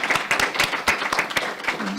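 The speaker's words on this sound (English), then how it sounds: "So just like round of applause for them." Applause at a school board committee meeting for student speakers Violet and Jaden: a room of people clapping in a brisk, uneven patter, fairly close, with faint voices mixed in.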